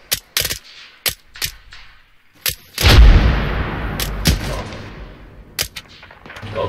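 A squad opens fire on infantry in a multiplayer military video game, with sharp scattered shots early on, then a big booming volley followed by a rolling rumble and further isolated cracks, close and loud.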